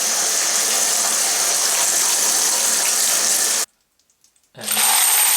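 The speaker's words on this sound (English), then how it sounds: "I clean them a bit with water" Tap water gushes loudly and steadily over rifle cartridge cases and steel cleaning pins. It cuts off abruptly for about a second, leaving a few faint drips, then surges back on at full force.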